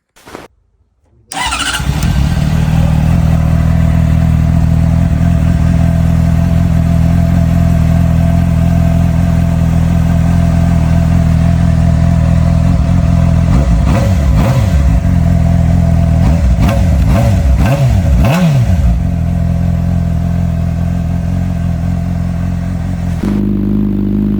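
A Honda CBR 600RR motorcycle with a new DPM carbon racing exhaust fires up after a brief rustle, then idles and runs steadily and loudly, with a few rising revs partway through.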